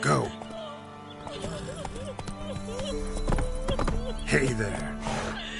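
Roach, a horse in a video game, gallops with rhythmic clip-clopping hooves and lets out several short, pitched neighs and whinnies, fairly close and busy throughout.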